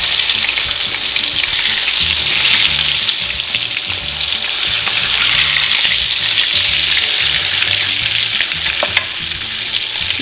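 Egg-coated dried fish fries loudly in hot oil in a pan, a dense, steady sizzle and crackle running throughout with faint scraping of a utensil now and then.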